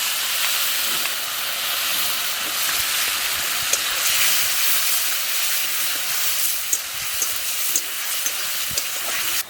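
A spiced egg and potato curry sautéing in a pan gives a steady, bright, close sizzle and hiss throughout, with a few small pops, and no speech.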